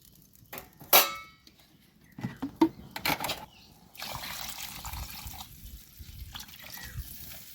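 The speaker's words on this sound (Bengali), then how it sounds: "কেন আমি ঝোল করবো, তাই জলটাকে একটু বেশি দিলাম।" Water poured into a pan of Bengali lata fish curry with green banana and potato, starting with a few splashy bursts and then settling into a continuous close pour and bubbling.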